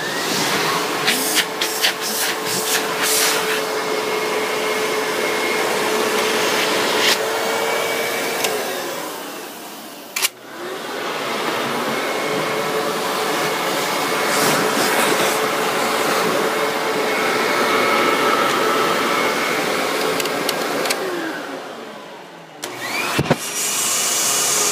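A Redux vacuum cleaner runs on suction with a loud, steady roaring whine, briefly dipping and cutting out around the middle and near the end before starting up again.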